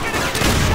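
Rapid gunfire from a Call of Duty: World at War campaign firefight on Hardened difficulty, a dense loud burst of shots filling the whole moment with no voices over it.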